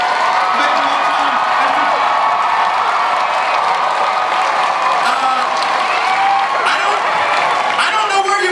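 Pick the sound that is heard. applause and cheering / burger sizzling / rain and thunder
applause and cheering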